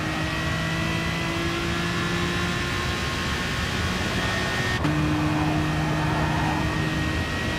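Aston Martin DBR9 race car in Gran Turismo Sport downshifting through a hairpin, its engine droning steadily with a sharp gear-change break partway through, then settling at a new pitch; continuous and close with no talk.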